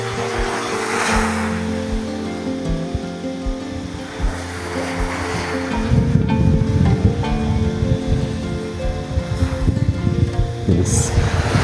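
Sea waves wash onto a beach at a resort on Samui, Thailand, a steady surf rush with a low rumbling swell that grows fuller and louder in the second half, with no voices.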